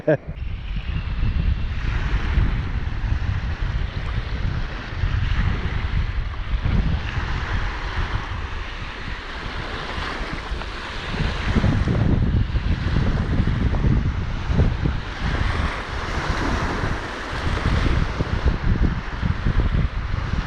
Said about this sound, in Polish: A fale się zrobiły jak na polskim morzu.